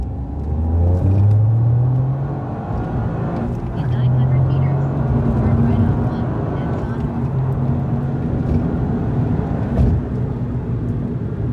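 A Toyota GR Yaris fitted with a DTUK tuning box drives along with a steady engine drone and road rumble, the pitch rising and shifting through gears, while someone talks over it.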